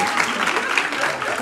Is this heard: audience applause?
yes